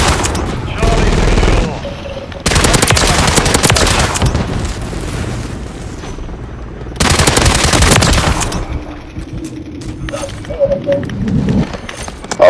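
A machine gun turret firing in a Call of Duty match, loud sustained bursts of rapid gunfire in two long volleys separated by quieter gaps with distant shots and faint game sounds.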